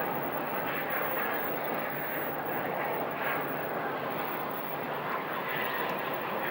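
Boeing 737 airliner at Phoenix Sky Harbor airport, heard as a steady broadband jet-engine roar from a moderate distance, continuous and even throughout with no voices.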